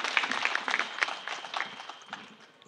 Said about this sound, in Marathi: ताईंसाठी एकदा सगळ्यांनी जोरदार टाळ्या वाजवायच्या